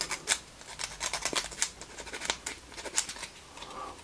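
Small fire truck model parts are sanded with sandpaper in quick, soft, scratchy strokes. The rasping is faint, close, and repeats unevenly for several seconds.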